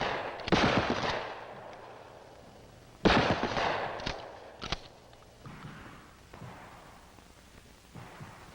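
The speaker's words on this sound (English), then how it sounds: "Offhand aimed fire is best suited to longer ranges." Shotgun blasts on a training range, two loud, sharp reports a few seconds apart, each followed by a decaying echo, then fainter scattered pops and thuds at a distance.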